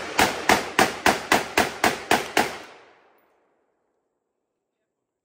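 Nine sharp gunshots from a Draco pistol fire in quick, steady succession, loud and close, each with a short echo, then the burst stops and the sound decays into silence.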